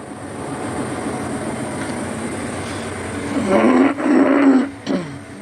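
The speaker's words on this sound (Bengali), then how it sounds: "আমাদের চিত্রা এক্সপ্রেস ট্রেনকে ক্রসিং করতেছে" Passenger train at Daulatpur station, Bangladesh, crossing the Chitra Express: a steady rolling rumble builds into louder, closer clatter with tonal squeal in the last seconds, briefly dipping twice.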